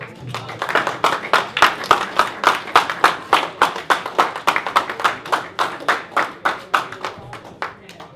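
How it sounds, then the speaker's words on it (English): Audience applause at a live book event, dense rhythmic clapping from a room of people that swells and keeps going steadily before tapering off near the end. "Give them a warm round of applause, guys."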